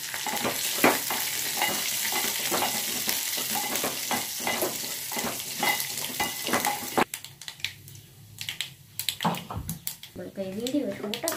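Mustard seeds, chana dal, curry leaves and dried chillies are tempered in hot oil for a peanut chutney, sizzling and crackling steadily up close. A voice talks over the frying, and utensils clink near the end.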